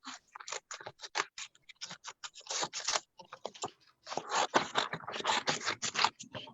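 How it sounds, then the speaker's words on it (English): Scissors cutting out white paper for a mixed media craft, a rapid run of crisp snips and scratchy rustles, quiet and close, with brief pauses between bursts. "we're going to cut our white paper out."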